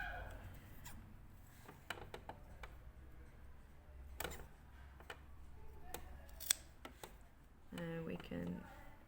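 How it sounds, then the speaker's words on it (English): Scissors snip the fabric edge off a puff sleeve with several sharp, separate cuts spread across a quiet room, then a short rattling mechanical burst near the end. "so now to move on, we can cut off that edge."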